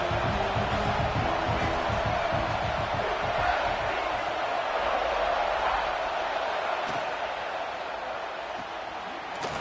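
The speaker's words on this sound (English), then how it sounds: "this home crowd is fired up and ready to make a difference today." Stadium home crowd in a college football video game roars steadily and loudly for the whole stretch, a dense wash of cheering with no clear voices standing out.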